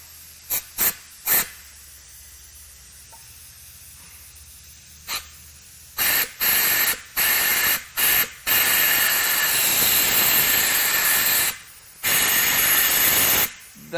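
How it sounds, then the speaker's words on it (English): Compressed air is blown through the oil pickup tube of a neglected Chevrolet Silverado LM7 5.3L V8 during teardown. Several short loud hissing bursts come first, then longer sustained blasts with brief gaps, close and harsh, with no speech. "So I'm going to blow just a little bit of compressed air through this pickup tube, see if anything comes out."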